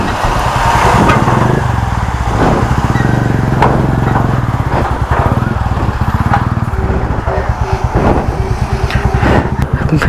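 Loud, steady engine drone of a Royal Enfield Classic motorcycle on the move, rough and continuous with wind buffeting throughout; no clear talking.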